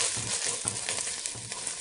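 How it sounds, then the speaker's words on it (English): Tomato paste sizzling in olive oil over medium heat in a kettle, a steady close frying hiss with faint crackles and no talk. "take a tomato paste, put it in our kettle with some olive oil"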